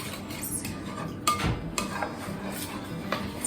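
Flour being stirred bit by bit into a runny batter in a bowl for pretzels, with a spoon clinking and scraping against the bowl in irregular knocks over a low background, close and without talk.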